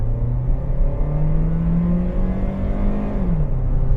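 A 2011 Toyota Yaris 1.5 E sedan accelerates hard from inside the cabin, its engine drone climbing steadily in pitch, then dropping briefly at a gear change near the end.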